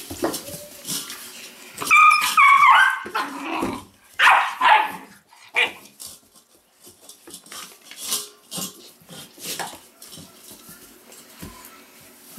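Weimaraner puppies bark, yip and whimper in short, loud bursts while tussling nearby, with quieter growls and scuffling between the outbursts.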